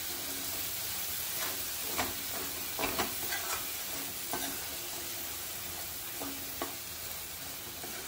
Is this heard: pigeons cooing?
no